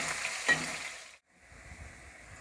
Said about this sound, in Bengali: একই তেলে আলুগুলো আমি ভেজে নেব।